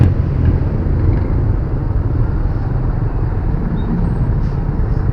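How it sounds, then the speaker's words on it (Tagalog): Heavy road traffic beside a bus in a jam, a loud, steady low rumble of idling and creeping engines filling the whole stretch with no voices. "Sobrang traffic."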